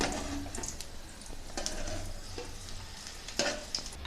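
Appalam-wrapped samosas fry in hot oil with a soft, steady sizzle, broken by occasional sharper crackles and pops; no one speaks.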